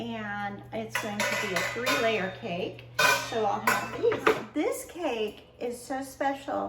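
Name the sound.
metal cake pans clanking as they are handled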